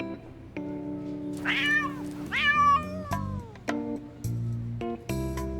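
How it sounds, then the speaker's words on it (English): Several cartoonish cat meows ring out in the Love and Deepspace video game, set in a cat cafe, each a bright rising call over soft musical tones, distinct and fairly close. "Meow!"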